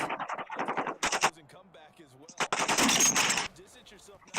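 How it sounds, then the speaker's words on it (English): Bursts of rapid gunfire in Madden 23, loud and rattling, with stretches of quieter game sound and a brief voice-like passage at the start. "Oh my goodness, I can't hear anything over the gunshots."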